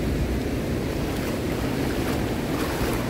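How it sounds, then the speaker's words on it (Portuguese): Ocean waves break at a sunny beach, a steady, loud broadband rush of surf and wind buffeting the microphone throughout, with no voices. "Vamos ver aqui a praia."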